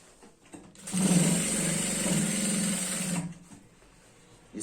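A sewing machine stitches the hem edge of a girl's skirt in one steady, close run of about two seconds, with a loud whirring motor and rapid needle rattle. The run starts and stops abruptly against quiet surroundings.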